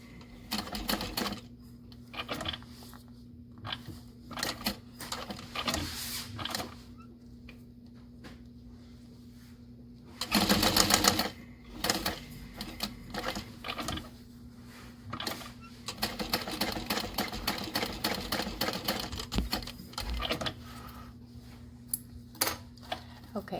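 A sewing machine stitches across the open edge of a handbag strap, with short clattering runs and light mechanical tapping and one louder burst of stitching midway, quiet between runs and with no voices.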